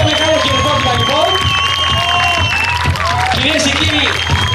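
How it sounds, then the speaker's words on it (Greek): A crowd applauds and cheers at a decathlon and combined events meeting on Milos, with sustained clapping, and an announcer's voice carries through the whole stretch. "Ένα μεγάλο χειροκρότημα λοιπόν."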